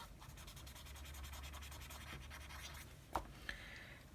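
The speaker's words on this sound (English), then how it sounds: "you can kind of just rub it out with a clean part of your Q-tip" Soft scratchy rubbing as a Q-tip works soft pastel into paper. It is faint and continuous, with a couple of small taps near the end.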